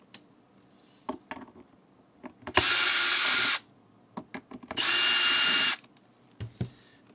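A power drill backs screws out of the battery compartment door on an HME DX100 MB300 intercom base station, two sustained whirring bursts separated by small clicks and handling taps.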